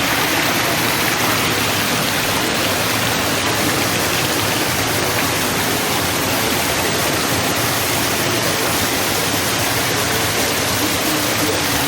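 Waterfall on the Champagne River in Saint Ann, Jamaica, a loud, continuous broadband roar of rushing water heard up close, with no breaks or other sounds.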